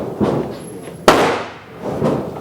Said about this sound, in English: we're shooting our Ruger Super Blackhawk now with the cast